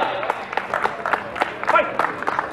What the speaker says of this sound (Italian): Un applauso per i ragazzi.